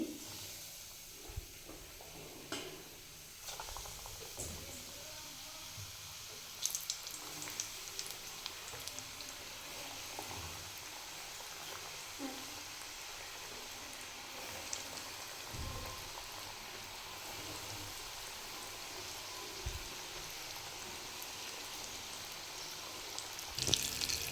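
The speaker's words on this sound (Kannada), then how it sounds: "ಇದನ್ನ ಈಗ ಎಣ್ಣೆ ಕಾಯ್ದಿದೆ, ಎಣ್ಣೆ ಒಳಗಡೆ ಹಾಕ್ತೀನಿ" KFC-style chicken popcorn, coated in maida batter, deep-frying in hot oil with a continuous crackling, rain-like bubbling and scattered sharper pops and clatters, fairly quiet and close.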